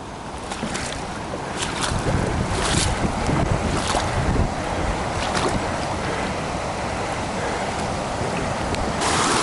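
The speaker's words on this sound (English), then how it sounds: "Hopefully you can actually hear, let alone see, the amount of water that's spilling over into Pit 2" Steady rushing floodwater roars continuously as it spills over into a lake at Pingewood, with gusts of wind buffeting the microphone throughout; no voices.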